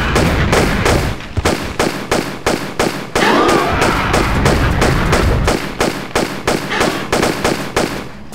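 Rapid bursts of gunfire from the Tomb Raider: Chronicles video game, a loud, dense run of evenly spaced shots continuing for several seconds with brief pauses, close and alone.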